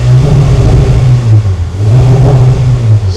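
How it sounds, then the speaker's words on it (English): Modified car's engine revving in a loud, close burst, the low growl rising and dipping twice as the throttle is blipped, with no talking over it. "Let me see that smile on the face when you're revving it."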